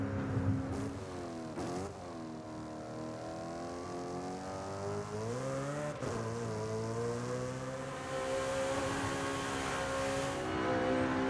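Car engine in Forza Horizon revs hard in sixth gear with the wheels spinning, a loud continuous howl that climbs and dips in pitch over several surges, without voices.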